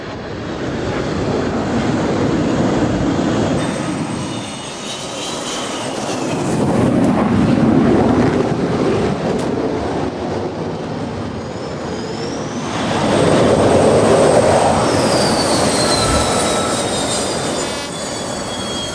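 Jet aircraft on an aircraft carrier flight deck during arrested landings, a loud sustained roar surging in three waves with rushing broadband noise and whining high engine tones, no talk.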